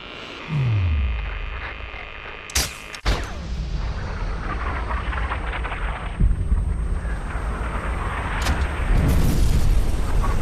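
A sniper rifle fires in the video game Sniper Ghost Warrior, one sharp loud crack around the third second, preceded by a rising whoosh and followed by a rumbling, echoing tail and steady game ambience.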